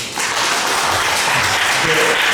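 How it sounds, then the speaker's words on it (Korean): Applause from a church congregation during a Sunday worship service, a steady wash of clapping filling the room for the whole stretch. "네, 한번 박수 합시다."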